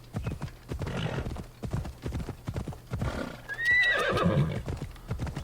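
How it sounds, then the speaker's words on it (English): A horse in Assassin's Creed Odyssey gallops with quick, even hoofbeats, then lets out a loud, rising whinny near the end. Faint talk runs underneath. "Always the quickest way to travel by horse."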